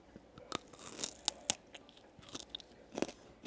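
Crisp, crunchy bites into a Dubai chocolate bar with knafeh filling, several sharp cracks close to the mic spread over a few seconds, with no talking.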